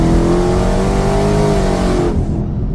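A car on Mickey Thompson ET Street R drag radials pulls hard in third gear, its engine roaring loud and steady at close range, the pitch rising slowly before the sound cuts off abruptly.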